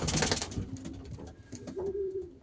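Racing pigeons cooing softly in a loft, a few low purring coos with rustling and brief sharp sounds around them.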